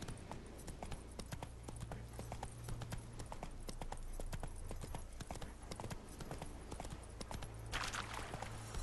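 Hooves of Roach, Geralt's horse in The Witcher 3: Wild Hunt, clip-clop in a steady, brisk trotting rhythm throughout, close and clear, with game ambience underneath.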